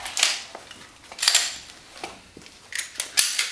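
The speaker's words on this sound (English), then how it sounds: "load your pistol." A handgun is handled and loaded, with several sharp, close metallic clacks and slides of the pistol's parts spread across a few seconds, alone with no talk.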